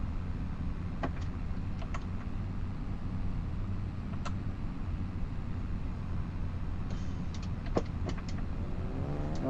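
A vehicle drives steadily in Farming Simulator 2025, overtaking on a foggy road, its engine a continuous low drone with faint clicks and rattles scattered throughout.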